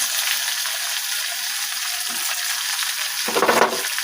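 Vegetables with tomatoes and coriander being stirred in hot oil in a pan for a capsicum curry, a steady sizzle with one louder scraping stir near the end.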